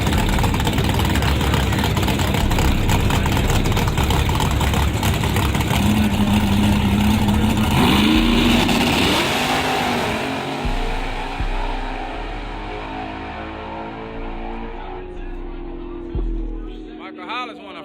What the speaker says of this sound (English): motor sound like a monster over there.